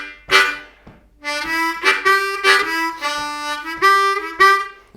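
A blues harmonica lick from a blues tune, opening with two 2-draw chords and then running into reedy bent notes and punchy chords, played loud and close with no talking.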